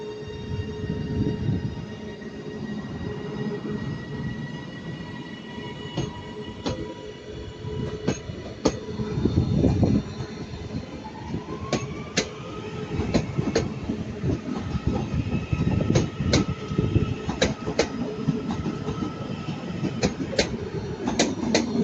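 Trains at Manchester Piccadilly station, including a Transport for Wales unit, with rolling wheels, clickety-clack over rail joints and squealing wheels, a continuous loud rumble and no talking.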